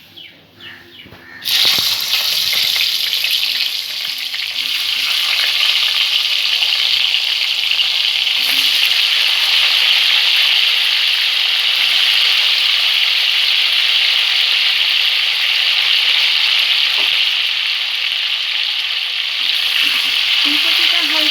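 Cauliflower fries lightly in oil over a medium gas flame with a loud, steady, close sizzle that starts abruptly after a short quieter moment and keeps going unbroken, with no voices.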